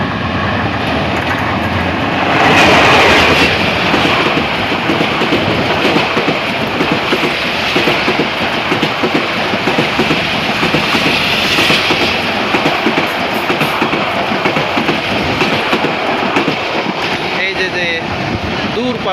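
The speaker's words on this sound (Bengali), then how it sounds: "দূর পাল্লার কিন্তু একটা ট্রেন কিন্তু এখন এদিকে আসতেছে" Long-distance train rumbling loudly past a rural Bangladeshi railway station, a steady broad roar with clanking wheels for the whole stretch, swelling early on, while people talk faintly beneath it.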